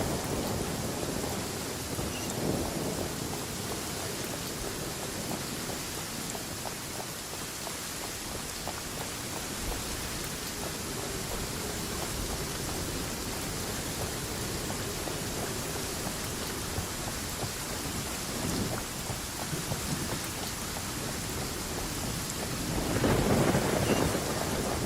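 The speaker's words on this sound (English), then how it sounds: "The sound of rain masks the enemy's footsteps." Rainstorm in Genshin Impact: a continuous, loud hiss of heavy rain with rolling thunder rumbling underneath, swelling into a stronger burst near the end, with no voices.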